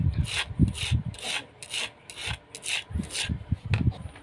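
Sliced cucumber is tossed with ground chili and kencur, making rhythmic wet rubbing and scraping strokes that are close and moderately loud, repeating in short bursts with no voices.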